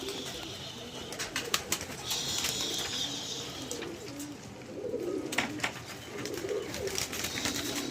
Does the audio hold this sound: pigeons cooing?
yes